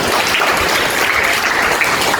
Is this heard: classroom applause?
yes